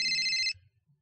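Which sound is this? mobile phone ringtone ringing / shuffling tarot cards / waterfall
mobile phone ringtone ringing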